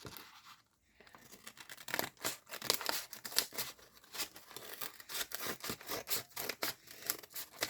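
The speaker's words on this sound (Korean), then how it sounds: "가위" Scissors snip through material while a handmade phone case is unboxed: a quiet pause, then a quick, irregular run of close, crisp cutting and rustling sounds.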